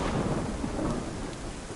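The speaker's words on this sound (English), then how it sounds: "Like standing in the rain." Dense rain pours steadily in the DayZ game world while low thunder rolls underneath, a continuous close wash of noise with no voices.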